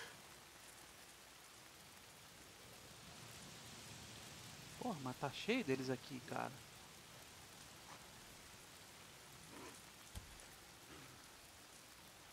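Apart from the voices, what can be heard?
rain in the video game Days Gone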